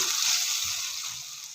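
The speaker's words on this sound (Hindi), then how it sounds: "अब हम मसाले को तकरीबन 4 से 5 मिनट के लिए खूब अच्छे से भून लेंगे।" Onion and tomato masala for brinjal bharta fries in a pan with a steady, close sizzle, with faint stirring scrapes underneath.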